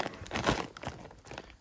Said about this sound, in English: So I got a pair of scissors here. Just going to kind of open it across the bottom.